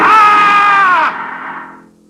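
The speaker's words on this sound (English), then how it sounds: "On the morning of June 15th, Guy Burkhart woke up screaming." A man screams loudly as he wakes from a nightmare, a single sustained high cry that holds for about a second and then trails off into a fading groan.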